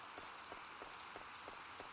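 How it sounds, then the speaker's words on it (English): Steady rain pours in the farming game Harvest Moon: Light of Hope, a soft, continuous hiss of falling water with a faint repeating patter of drops throughout. "too much rain"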